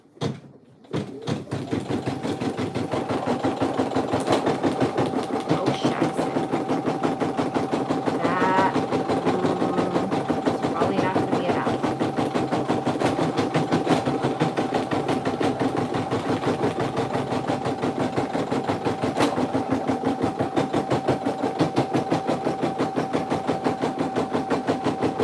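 A Brother PE800 embroidery machine stitches an applique patch, giving a steady, loud mechanical whir and rapid needle chatter that runs on without a break after a brief start-up.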